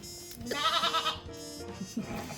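A single wavering sheep bleat, loud and close, followed by a shorter second bleat.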